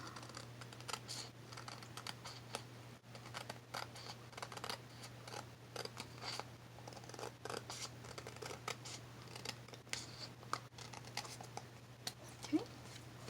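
Scissors trim the edges of greeting card paper, a quiet run of small, crisp snips and light paper rustles in an otherwise hushed room.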